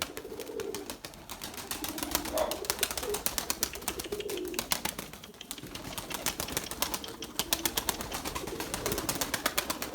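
Pigeons coo softly and repeatedly over a busy background of clicking and fluttering, several birds close together in an enclosed coop.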